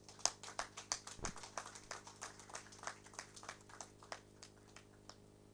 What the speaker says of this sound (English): Thank you for that round of applause